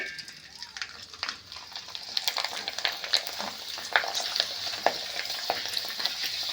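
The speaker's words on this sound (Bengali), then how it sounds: "এখন আমি পাঁপড়গুলো ভেজে নেব" Rice-flour papad fries in hot oil: a close, bubbling crackle that swells and grows busier, with sharp pops, and a voice now and then in the background.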